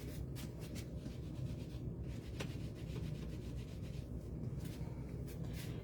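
A scrub pad rubs back and forth over a rubber stamp to clean off ink, giving a steady, close scratchy scrubbing that runs unbroken throughout.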